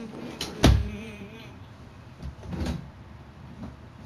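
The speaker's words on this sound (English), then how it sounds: "It's just my drawers. I'm putting some stuff in there." Drawers being opened and closed in a room: one loud bang near the start, then softer sliding thumps and knocks, fairly close and with no talk over them.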